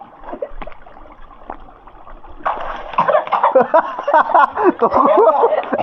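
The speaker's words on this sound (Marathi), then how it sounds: "हा वरतून खाली उडी मारणार आहे म्हणजे हा डाय मारणार" A person leaps from above into an outdoor village swimming pool, and a burst of splashing and churning water follows, with laughing, chattering voices before and around it.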